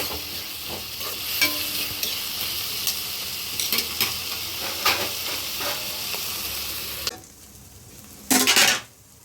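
Turmeric and curry leaves frying in a pan while a utensil stirs and scrapes, giving a crackling sizzle with repeated clinks, then a quieter stretch and a short loud burst of sizzling near the end.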